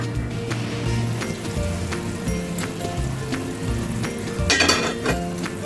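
Spicy Gulsha fish cooking in a pan over low heat gives a steady close-up sizzle and crackle that runs throughout, with a sharper burst of spitting near the end.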